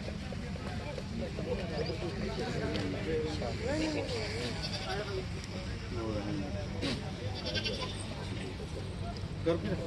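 Goats bleat repeatedly in a busy livestock market, their wavering cries rising over constant nearby chatter and bargaining voices, with occasional hoof clatter in the background.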